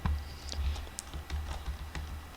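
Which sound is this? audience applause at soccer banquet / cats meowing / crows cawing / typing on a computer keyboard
typing on a computer keyboard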